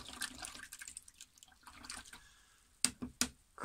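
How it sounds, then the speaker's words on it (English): A watercolour paint brush being washed out in a water pot, with soft swishing and a few sharp taps of the brush against the container. "I want to wash this heavy paint out of the brush"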